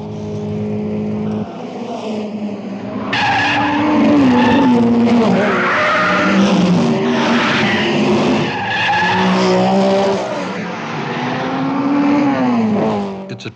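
Race cars at the 1962 Monaco Grand Prix, loud engines snarling and rising in pitch as the cars pass close by, with a sharp tire squeal at the start and no talk.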